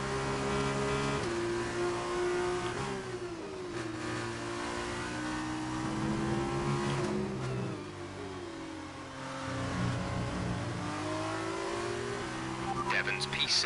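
Race car engines rev and shift through gears in a racing video game, a sustained loud whine rising and dropping as cars jostle and overtake, with a brief lull before the roar picks up again.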